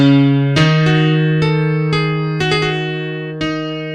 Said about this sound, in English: It also has that classic electronic piano sound